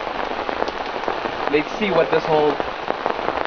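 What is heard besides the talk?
heavy rain pouring down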